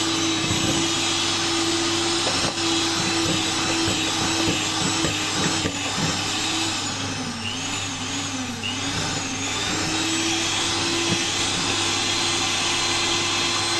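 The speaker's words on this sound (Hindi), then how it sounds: "ये जब तक ब्लेंड हो रही है" A blender runs steadily on its low setting, mixing lava cake batter, a continuous loud whirring drone that holds for the whole stretch with a slight wavering in pitch midway.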